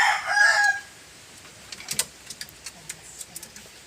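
A rooster crows loudly at the start, followed by scattered soft clucks and clicks from chickens nearby.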